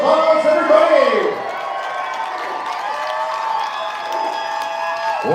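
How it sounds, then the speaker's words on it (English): Crowd at a Te Kura Matua o Wainuiomata school performance at a powwow claps and cheers loudly after the show, with whoops and children shouting over sustained applause that dips briefly midway. "give Wainuiomata a round of applause, everybody"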